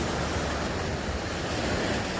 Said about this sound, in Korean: 파도와 조심해.